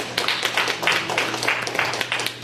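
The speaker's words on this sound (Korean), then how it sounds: "박수를 좀 쳐야 돼" Church congregation clapping together in a steady rhythmic beat, moderately loud and close, with no speech over it.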